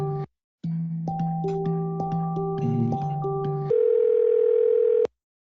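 Telephone tones on a Yeastar P Series call system: a quick run of stepped, overlapping dialing beeps, then one steady tone held for about a second and a half before it cuts off cleanly, with no voices.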